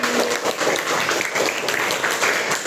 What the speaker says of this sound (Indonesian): Tepuk tangan dulu untuk Habib.